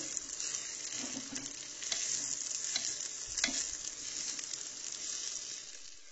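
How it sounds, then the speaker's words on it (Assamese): Rice for pulao frying in a pan, a steady soft sizzle throughout with occasional stirring scrapes, close and quiet, with no voices. "আৰু এইফালে পোলাওখিনি চাউল ভাজি আছো"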